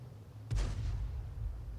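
A Bat.-Châtillon 155 55 artillery tank fires its cannon in a video game, a single heavy deep boom with a lingering low rumble, fairly distant and muffled.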